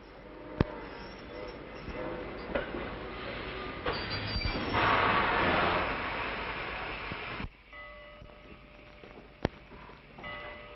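A steam train runs in an old 1936 film soundtrack: a steady rumbling roll with rail clatter and a few sharp clanks, swelling louder midway then dropping to a quieter hum, no voices.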